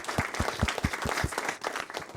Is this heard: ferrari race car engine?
no